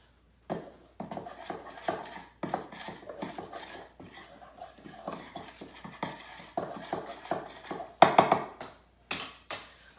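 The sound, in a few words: mixing dry cookie ingredients in a bowl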